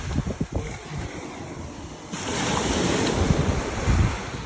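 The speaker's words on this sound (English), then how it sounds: "Listen to those waves, though." Ocean surf rolls in as a steady broadband wash that swells louder partway through, with wind buffeting the microphone at the start.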